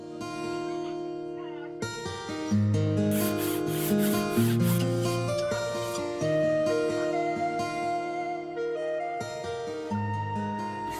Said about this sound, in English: It's a good idea to remove as much rust when resurfacing with files.